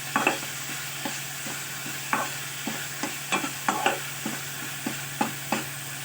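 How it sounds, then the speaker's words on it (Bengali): Spices with Kashmiri red chili powder, salt and turmeric stirred in a frying pan for paneer korma, a soft background sizzle punctuated by regular spoon scrapes and taps, close and quiet. "ভালো করে এটাকে নাড়াচাড়া করবো।"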